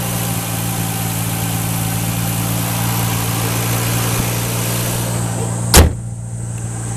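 A Toyota Chaser JZX100 with a turbocharged VVTi engine, aftermarket intake piping and air cleaner idles steadily and close, a smooth continuous hum with one brief horn-like burst near the end.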